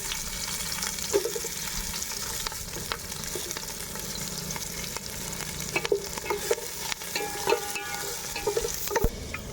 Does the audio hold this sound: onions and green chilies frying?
yes